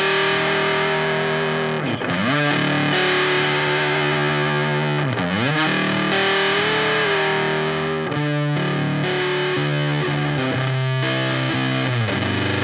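Guitar runs through a gated fuzz pedal with a bias control and high cut filter, sustained distorted chords and slides ringing loud and continuous, the tone shifting as the filter sweeps.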